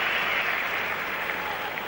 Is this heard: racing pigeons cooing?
no